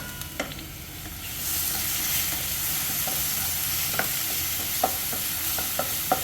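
Curry leaves, garlic, shallots and dried chillies fry in coconut oil for a brinjal stir-fry, the sizzle jumping louder as the leaves go in, with sharp spatula taps against the pan scattered throughout.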